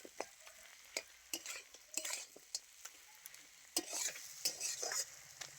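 Potatoes and a catla fish head are sautéed in spices in a pan, with soft sizzling under repeated scrapes and clinks of a stirring utensil, close and fairly quiet.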